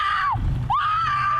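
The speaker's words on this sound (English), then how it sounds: "That was a great scream." A woman lets out a loud, sustained scream on a horror film set during a Friday the 13th–themed shoot, her voice holding high, dropping away briefly, then rising and holding again over a low rumble.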